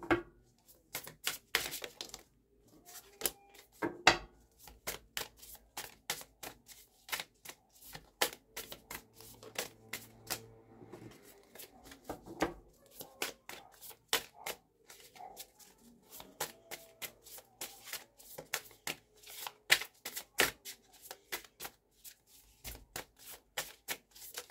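Tarot cards shuffled by hand in a long run of quick, crisp riffles and slaps, close and fairly quiet with brief pauses between bursts.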